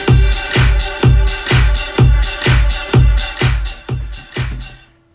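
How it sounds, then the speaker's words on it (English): A full electronic drum groove pounds along, heavy kick hits joined by crisp hi-hats and other percussion in a driving regular rhythm, loud and close before cutting off at the end, with no voices. "And then with the rest of the drums, it would sound like that."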